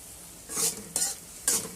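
Masala being fried and stirred in a pan, with three distinct scraping strokes over a constant sizzle, close up and alone.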